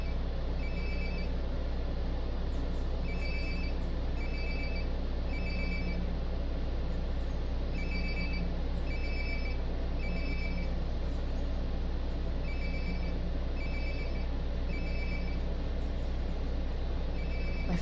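A cell phone rings in Life is Strange: Before the Storm, a repeating two-tone ringtone chirping in regular bursts over a steady low hum of background ambience, with no talking.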